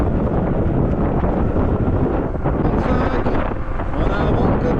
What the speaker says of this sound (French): On a un vent de côté, c'est dommage